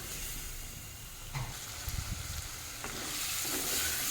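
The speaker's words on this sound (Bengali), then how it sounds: "তলায় যতক্ষণ না লেগে যায় ততক্ষণ পর্যন্ত কষাতে হবে।" A spice mixture for a spinach dish being sautéed in a pan, giving a continuous hissing sizzle with a few brief scraping stirs, close and steady.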